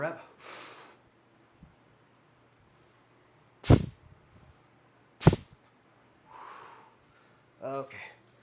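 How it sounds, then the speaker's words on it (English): Heavy breathing during a weight-lifting rep: two sharp, loud forceful exhalations a second and a half apart, with softer breaths and brief talk around them in a quiet room. "that's why I'm breathing that way"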